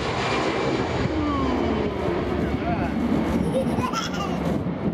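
A child imitates an aircraft engine revving, the engine-like voice droning steadily and loudly throughout against a broadband aircraft roar, with brief rising vocal sweeps near the end.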